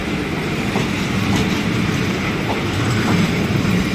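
A train at Bang Sue Junction station makes a loud, continuous rumble with faint rail clatter and occasional squeal, steady for the whole stretch, no speech.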